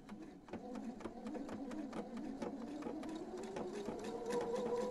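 A sewing machine stitches a jersey strip with a close, rapid mechanical clatter of needle strokes and a faint motor whine that rises slightly toward the end.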